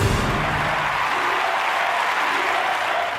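Thunderous applause from a large audience at a political speech, a dense, steady roar of clapping that fills the whole stretch at high level without a break.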